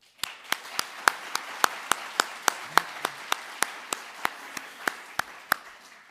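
Steady, evenly spaced claps, about twenty sharp strikes at a brisk regular pace, from an evening audience welcoming the presenter Éric Baratet; the clapping is sparse and thin, like only a few pairs of hands.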